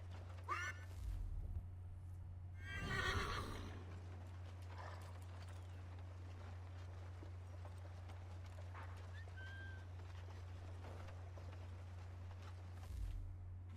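Horse hooves clip-clop and a horse whinnies in the Assassin's Creed 3 video game, with a loud burst of galloping near the start and a steady low game hum throughout.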